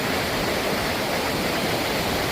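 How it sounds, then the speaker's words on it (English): A flooded river rushing beneath a bridge, a loud, dense and unbroken roar of churning water that stays close and steady from start to finish, with no voices. "Shows you the power of this river when it's in flood"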